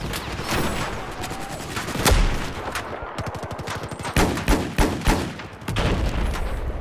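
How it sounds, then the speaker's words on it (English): Battlefield 4 firefight at Hainan Resort, with sniper and enemy rifle shots cracking in rapid, overlapping bursts, including a fast rattling volley midway, loud and close amid continuous battle noise. "we're getting shot from all the angles here"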